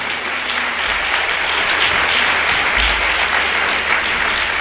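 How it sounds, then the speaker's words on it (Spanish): Sustained audience applause at a professional career award ceremony, dense and steady throughout, with no voices rising above the clapping. "Y un aplauso para ellos, para la marcha de mañana."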